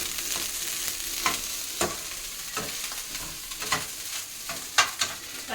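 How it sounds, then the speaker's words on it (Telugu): Carrot and onion sizzle in hot oil as a fried rice tempering, a steady close frying hiss with periodic stirring scrapes and clinks throughout, no voices. "కొంచెం క్యారెట్ ఉల్లిపాయ వేసి అదే ఫ్రైడ్ రైస్ కింద తాలింపు పెడుతున్నాను"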